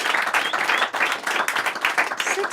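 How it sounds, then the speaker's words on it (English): A crowd applauding a production feat of six studios over five nights, a dense, steady round of clapping that holds for a couple of seconds at a moderate, fairly close level. "Round of applause for that."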